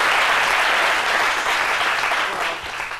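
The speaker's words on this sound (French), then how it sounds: "ça s'applaudit." Dense audience applause fills a television studio, loud and continuous for a few seconds before tapering slightly at the end.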